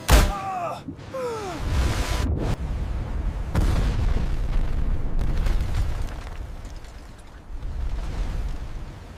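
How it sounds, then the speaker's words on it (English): A deep, rumbling explosion booms out at sea during a night submarine sweep in the Battle of the Atlantic, followed by a long rolling roar and crackle that lingers for several seconds. "Explosion observed."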